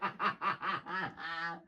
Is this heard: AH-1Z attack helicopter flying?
no